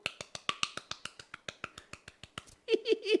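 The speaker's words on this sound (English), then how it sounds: "8-finger clap, baby" Rapid sharp claps, about twenty crisp strikes in a quick, slightly uneven rhythm, close and fairly loud, made with eight fingers, followed by a voice speaking.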